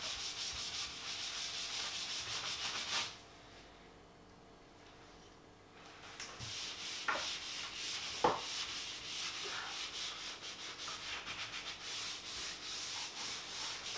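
Steady brushy scrubbing of Rubio Monocoat oil into an American black walnut worktop, worked along the grain, continuous apart from a quieter pause, with a few sharp knocks and taps.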